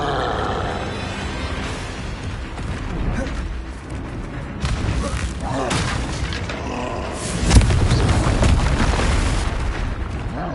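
A Bombarda spell explosion in the Hogwarts Legacy video game comes as loud, dense rumbling blasts, with a sharp bang about two-thirds through amid continuous game noise.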